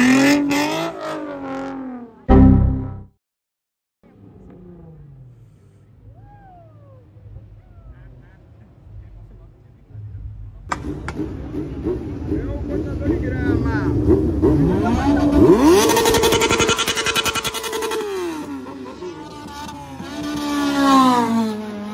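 Motorcycle and Honda Civic Si engines revving hard to the rev limiter, loud, rising and bouncing in sustained bursts after a brief sharp blip early on, with voices talking over parts of it.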